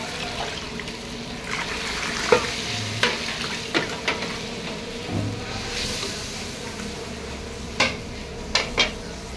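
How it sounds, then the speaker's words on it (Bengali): Fish simmering in gravy in a pot, heard as a steady bubbling and sizzling hiss with scattered clinks and scraping stirs, fairly close and without any talking. "ঝোলে দিয়ে দিয়েছি, মাছ দিয়ে দিয়েছি, ফুটছে।"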